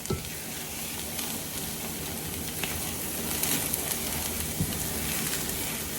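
Eggs sizzle steadily in a hot skillet as they are stirred and cooked through for a ramen noodle breakfast, a continuous close frying crackle with faint scraping and no talk.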